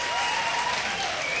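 Steady, dense applause from an audience at a talent show aboard the cruise ship Carnival Ecstasy, the clapping filling the whole moment without a break.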